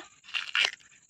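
Crunchy biting and chewing of food by someone at home in Uttarakhand, heard as two close, sharp crunches within a second against a quiet background.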